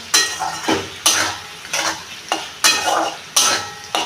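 A spoon scrapes and stirs Kashmiri chilli powder and garam masala in a pan for vegetarian chilli paneer, six or seven rhythmic, close strokes over a light sizzle.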